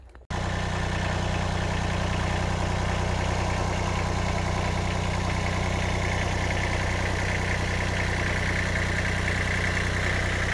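A Kubota B7100 diesel 4x4 compact tractor engine starts and then idles steadily up close, a loud even rumble with mechanical clatter that holds throughout without any talk.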